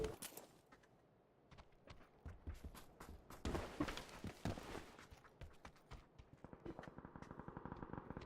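Faint, distant gunfire in the PUBG battle royale game: scattered shots, then a denser rapid burst, ending in a quick run of repeated pops, all quiet and without talk.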